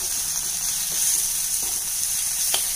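Spices including turmeric and garam masala sizzle in hot oil as they are stirred in a pan for tomato gravy, a steady soft hiss with a few faint scraping clicks, alone without talk.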